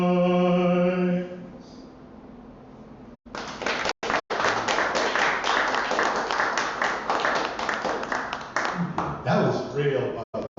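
A live concert audience breaks into applause after a song, a dense sustained clapping that swells and continues for several seconds, close and loud, following a fading sung note.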